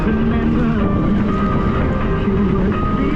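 Strong wind buffeting the microphone with a low, steady roar of a moving vehicle, constant and close.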